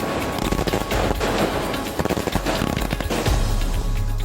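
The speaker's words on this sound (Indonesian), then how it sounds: "ini rasa syukur kita menyalakan kembang api malam ini ya" Fireworks set off at night crackle and pop in rapid, dense volleys, a continuous barrage of sharp bursts with a few louder bangs, heard fairly close without talk.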